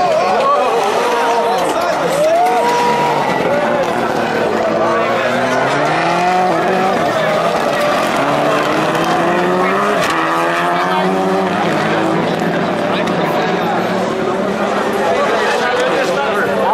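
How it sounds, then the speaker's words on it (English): Red Bull Global Rallycross race cars at a Top Gear Festival event in Barbados, engines revving and rising under loud, continuous commentary and crowd chatter, the cars blending into a dense roar. "Ken Block still out front."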